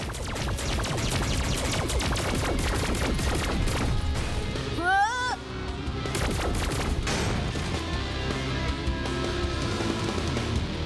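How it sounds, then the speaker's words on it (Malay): Rapid cartoon cannon barrage as a Brachiosaurus fires seeds at a T-Rex in an animated dinosaur battle, a dense, loud run of popping shots with a brief whooshing sweep midway, layered over action music. "Brachio, sekarang serang guna meriam benih cepat."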